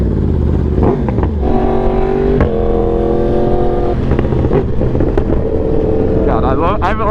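Yamaha R1 motorcycle ridden on its lowest power setting, the engine humming steadily with shifting revs and snaps of throttle throughout, loud and close, with a voice talking over it.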